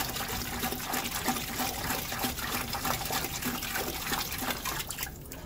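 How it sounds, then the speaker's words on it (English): Water draining steadily out of an Orion Motor Tech 55W laser cutter through an opened cap, a continuous close trickle and splash with no talk over it. "I popped off that cap. That's a lot more efficient way to get the water out."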